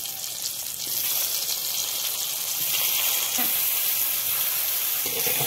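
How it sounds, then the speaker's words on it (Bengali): Pointed gourd (potol) frying in hot oil, a dense, steady hissing sizzle that stays close and even from start to finish. "পটলগুলো ভেজে নেব এখন।"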